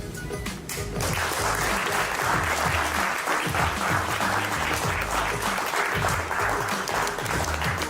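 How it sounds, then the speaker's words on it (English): A call-in show audience applauds, a dense, loud burst of clapping that swells after a brief quiet start and holds steadily, with some cheering mixed in. "Clap it up for Kim Clayson."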